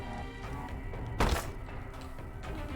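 A single bomb detonates in The Binding of Isaac: Repentance, a short, dull thump popping out over steady background game music.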